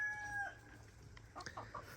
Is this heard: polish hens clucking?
yes